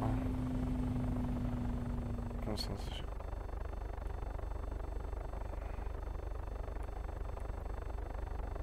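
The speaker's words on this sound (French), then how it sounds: "Je crois que j'ai un problème avec mon hélico." Helicopter engine in the Take On Helicopters video game, a steady low whir and drone with a brief high whine partway through, constant and moderately faint with no talking.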